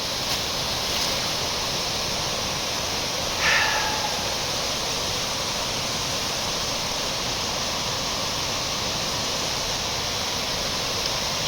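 Small waterfall at the source of the Gums River, running low on water, gives a steady broadband rush with no breaks, holding at an even level throughout apart from one brief faint knock.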